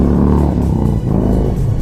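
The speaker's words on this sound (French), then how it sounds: "Autant de véhicules à moteur" Loud, continuous motorcycle engines rumble and rev nearby in a parade, a dense low growl with rising throttle surges and no pauses.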